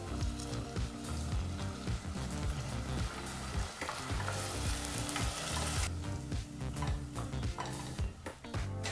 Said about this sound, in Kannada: ಮಿಕ್ಸಿ ಜಾರಲ್ಲಿ ರುಬ್ಬಿದಂಥ ಮಸಾಲ ಪೇಸ್ಟನ್ನು ಹಾಕಿ 2 ನಿಮಿಷಗಳ ಕಾಲ ಮಸಾಲ ಪೇಸ್ಟನ್ನು ಚೆನ್ನಾಗಿ ಬಿಸಿ ಮಾಡ್ಕೋಬೇಕು